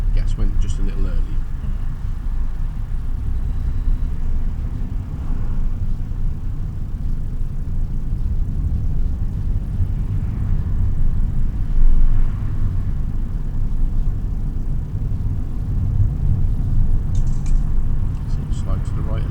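Inside a car driven by a 16-year-old learner, the engine gives a low, steady rumble as it accelerates in second gear. Voices talk over the continuous drone.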